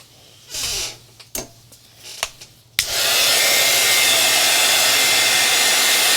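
After a few soft clicks and handling noises, a heat tool switches on and blows steadily and loudly, a constant whooshing hum drying a sticky craft medium.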